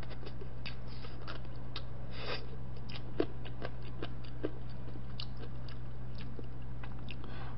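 Chewing of boiled chicken baeksuk during a Korean mukbang meal, with faint soft repeated mouth clicks and bites over a steady low hum, no talking.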